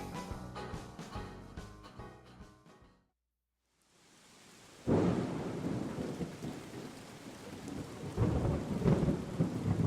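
Heavy rain pouring steadily with deep rolling thunder, broken by a brief near-silent gap before the storm swells back in, loud and broad, with another rumble building toward the end.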